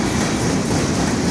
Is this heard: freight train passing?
yes